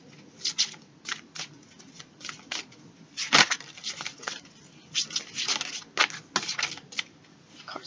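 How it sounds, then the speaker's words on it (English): Tarot cards are shuffled by hand in a close, crisp series of riffling and slapping bursts, with uneven rhythm and brief pauses between the flurries, no talking. "Cards falling out."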